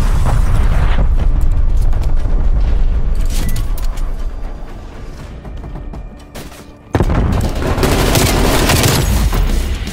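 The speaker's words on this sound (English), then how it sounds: "Artillery targeting detected. Net call, incoming artillery." Incoming artillery strike in Call of Duty Black Ops Cold War multiplayer, a loud sustained barrage of booming blasts and crackling fire, easing into a brief lull before another heavy explosion bursts in and the rumble resumes.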